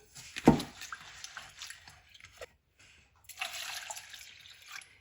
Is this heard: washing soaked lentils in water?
yes